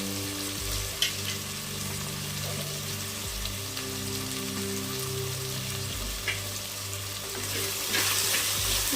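Onions and tomatoes sautéing in a pan for ridge gourd kulambu, a soft steady sizzle with a low hum underneath and a couple of light clinks, without talk.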